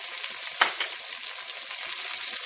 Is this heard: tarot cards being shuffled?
no